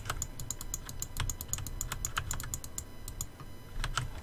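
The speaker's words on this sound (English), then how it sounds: "That's what you call fast clicking." Rapid mouse clicking while playing Medieval Engineers, a dense run of quick sharp clicks close up over a low background hum, continuing without pause.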